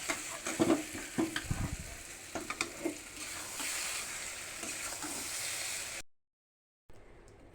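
Taro leaves and raw chickpeas fry in a pan as the water cooks off, with scraping stirs over a constant hiss of sizzling before the sound cuts out abruptly.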